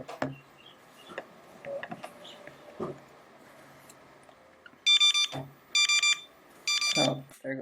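Three bursts of shrill electronic alarm beeping from a Turnigy Evolution radio transmitter ring out near the end, each a rapid cluster of high tones, after a stretch of quiet clicks and handling noise.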